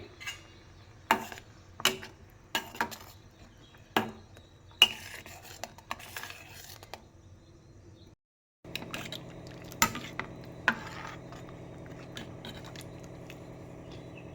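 Faint clinks and scrapes of a steel mixer grinder jar being handled, then a steady low motor hum as the jar spins a spice mix with water for a home-style sambar.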